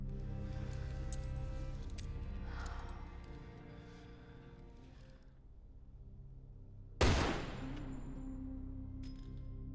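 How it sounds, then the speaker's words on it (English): A single sharp gunshot in a scene from The Walking Dead, heard behind a closing door. It cracks loudly out of a quiet, subdued stretch of music and room tone, then a brief decaying ring follows. "The door closes, a gunshot rings out, and Michonne cries over the loss of her fri"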